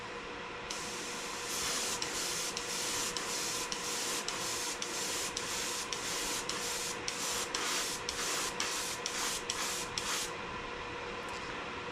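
Spray can laying a light base coat on a homemade emblem, a close, steady hiss broken into a rapid series of short even bursts, about a dozen quick passes in a row.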